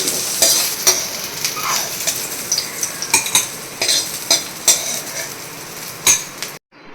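A spice mixture frying in a pan, a continuous sizzle under repeated clinks and scrapes of a spatula stirring against the metal, close and fairly loud, stopping abruptly at the end.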